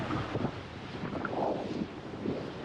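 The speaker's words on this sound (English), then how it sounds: "It'd be pretty windy to play beach volleyball." Strong wind buffets the microphone on an Aruba beach, a continuous rough blustery rush with faint surf underneath, no talking.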